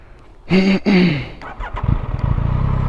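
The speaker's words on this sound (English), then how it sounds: "I'll give you guys kind of a startup for it." A warm 2021 Yamaha MT-09 with its stock exhaust cranks briefly with a whining starter, then catches and settles into a loud, close, throbbing idle that runs to the end, with no talking.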